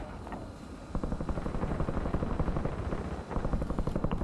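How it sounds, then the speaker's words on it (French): An enemy drone hovers overhead in a battle royale video game, its steady whirring rotor drone loud and continuous with dense broadband texture and faint rhythmic pulses throughout. "Un drone ennemi se trouve au-dessus."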